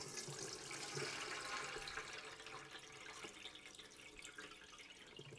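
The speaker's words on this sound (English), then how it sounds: "So what we're going to do is drain off all the buttermilk." Buttermilk draining off freshly churned homemade butter, a steady liquid pour and splashing into a container, continuous and close with no talk.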